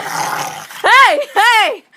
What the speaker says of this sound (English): It was freaking barking like a pit bull, man!